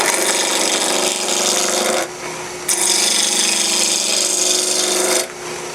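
A regular roughing gouge cuts ambrosia maple spinning between centers on a wood lathe, giving a loud continuous rasping roar, broken by two short pauses where the tool lifts off the wood.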